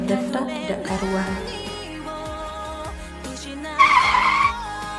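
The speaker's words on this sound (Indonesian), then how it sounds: "Pria Kim itu memajukan mobilnya cukup kencang" A car speeding off fast as a dramatic sound effect, with an engine surge and tire squeal rising to a brief loud screech near the end over a layered musical background.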